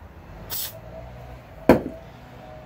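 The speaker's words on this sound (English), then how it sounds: "I'm going to spray into here and down this hole." A can of cleaner is sprayed into the carburetor of a Briggs & Stratton engine on a Craftsman Platinum 7.25 lawn mower. It gives one short, close hiss, followed by a single sharp clunk.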